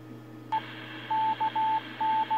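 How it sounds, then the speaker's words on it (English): A radio repeater identifying itself in Morse code, heard through a Baofeng handheld radio: a clean, steady beep sounds in short and long tone pulses over a low hiss that begins abruptly. "That's the repeater identifying itself in Morse code."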